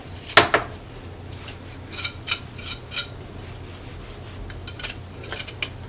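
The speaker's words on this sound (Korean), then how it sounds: "덜 벗겨진 부분은 칼로 손질을 해주겠어요" A kitchen knife scrapes and trims the leftover peel and soil from washed ginger root. There are several light, irregular scraping and tapping strokes with one sharper knock near the start, close by and moderately quiet, with no talk.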